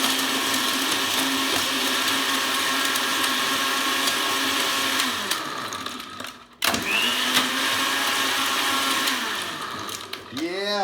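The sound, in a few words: blender crushing ice cubes for a protein snack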